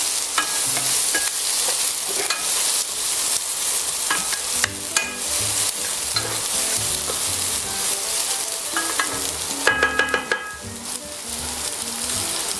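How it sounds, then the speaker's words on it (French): Vegetables sweating gently in a pan while chicken and smoked bacon with split pea potage are prepared, a steady soft sizzle with occasional stirring clinks and scrapes throughout. "Donc là on fait suer tranquillement les légumes"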